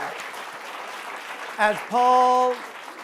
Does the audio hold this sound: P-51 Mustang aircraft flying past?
no